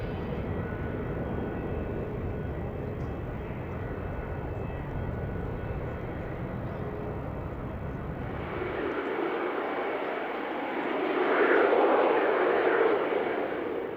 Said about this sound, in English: only to miss the complete circumnavigation of the airfield by Concorde